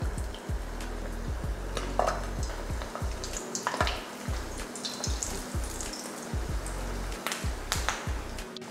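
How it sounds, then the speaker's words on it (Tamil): Mutton kola balls (minced mutton dumplings) frying in hot oil, a steady bubbling sizzle running throughout with a repeating low rhythmic thumping and occasional clinks of utensils. "இப்போ எண்ணெயும் காஞ்சிருச்சு. இப்போ பொரிச்சு எடுத்துடலாம்."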